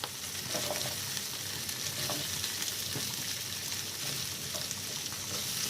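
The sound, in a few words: sautéing in a pan for paneer butter masala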